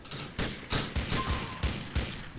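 Gunfire in GTA 4, a run of about eight sharp, evenly spaced shots, each with a heavy low punch, close and loud over a noisy game background.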